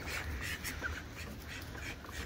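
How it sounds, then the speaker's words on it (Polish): A duck quacks during an evening round of a backyard poultry and animal breeding yard. Short, nasal calls sit close over a steady rustling outdoor background, with no talking. "o kurde kaczka"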